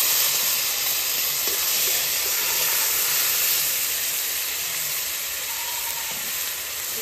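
Onion paste hits hot oil in a pan while cooking Bengali doi katla fish curry, giving a steady, loud, even sizzle and hiss that holds with little change throughout.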